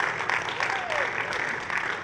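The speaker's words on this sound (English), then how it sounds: "Give her a huge round of applause." Conference audience at Dreamforce applauding as a presenter walks onstage, a dense continuous patter of many hands filling the room, fairly loud and steady, with faint crowd murmur mixed in.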